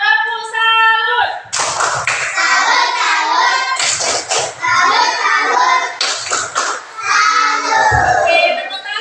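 Children in a primary classroom doing a 'tepuk salut' clapping chant, chanting and clapping in bursts of rhythmic claps between their voices, with the lively chant loud and close.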